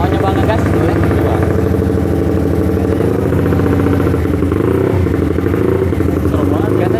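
A motorcycle engine rumbles loudly and steadily up close, revving throughout, with voices talking over it.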